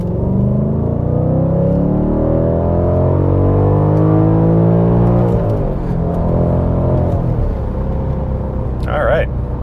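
A car fitted with a Tweetler 90mm throttle body and a high-flow fuel filter pulls hard in second gear on a dyno. The engine drone is loud and steady, its pitch rising throughout, with a voice briefly heard near the end.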